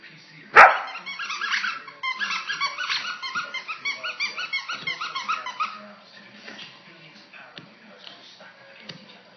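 A Samoyed Husky dog squeezes a squeaky toy, one sharp loud squeak followed by a long run of rhythmic rapid squeaks that fade into softer scattered ones, close to the microphone.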